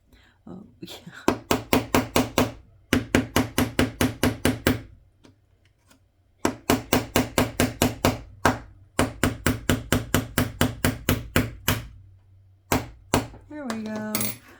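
Hammer blows drive painted wooden pieces together while assembling a Nook Master Classical Library miniature kit: four long bursts of quick, sharp, evenly spaced knocks, loud and close, with short pauses between them.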